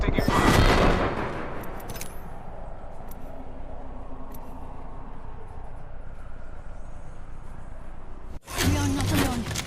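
Video-game gunfire aimed at the player rattles in a dense, loud, continuous fusillade, with a heavy burst at the start and another sharp volley near the end.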